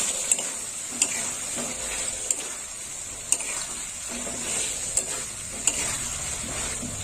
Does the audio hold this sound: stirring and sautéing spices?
yes